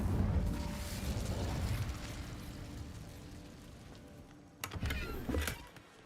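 An Incendio fire spell cast in Hogwarts Legacy: a short pair of sharp fiery bursts near the end, following a quiet rumbling stretch of game ambience.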